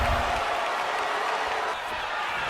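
An arena crowd in a wrestling video game roars and cheers in a steady, dense wash. A commentator speaks over it throughout.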